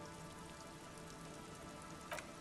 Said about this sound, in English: Rain drips from the netting of the trap.